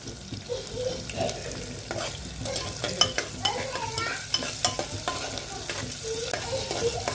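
Onion, garlic and tomato fry in a pan, a steady close sizzle broken by scraping stirs and a few clinks from the spoon, with no talking.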